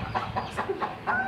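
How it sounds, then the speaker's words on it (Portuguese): A hen clucks repeatedly at a small farm with quails and chicks, a steady run of short, close, fairly loud clucks. "É a galinha"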